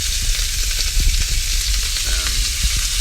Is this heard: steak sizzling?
yes